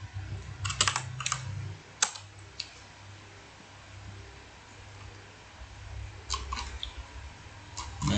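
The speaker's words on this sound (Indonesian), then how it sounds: "kemudian ketik net start" Clusters of crisp clicks from a computer keyboard as a command is typed, short bursts of keystrokes separated by a quiet stretch, close up over a low steady hum.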